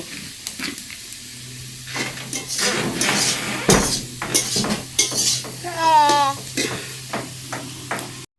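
Food being stirred in a pot on a clay stove, with repeated metallic clinks and scrapes of a utensil against cookware over a low steady hum, and a brief tonal squeak partway through.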